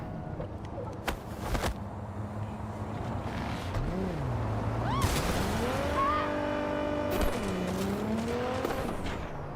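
A car driven in the video game Cyberpunk 2077, its engine revving and shifting in rising and falling sweeps, with occasional tire noise and crashes, steady and fairly close throughout.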